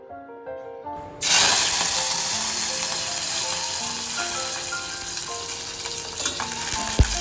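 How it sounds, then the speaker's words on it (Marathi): After a brief musical phrase, onion and curry leaves drop into hot oil with a sudden loud, bright sizzle that stays dense and hissing throughout, with faint music lingering beneath. "कांदा आपण छान असा तेलावरती परतून घेत आहे"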